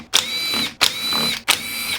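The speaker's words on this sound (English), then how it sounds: "Power tools." A power tool spins off bolts while tearing down a Supermini engine, firing three short, close whirring bursts in a steady rhythm with brief gaps between them and no talking.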